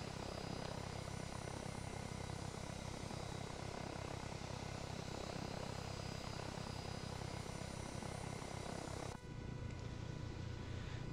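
A V-44 Blackfish tiltrotor aircraft flies in ARMA 3, giving a steady loud droning rotor and engine roar that continues unbroken, then the tone shifts near the end, with no voices.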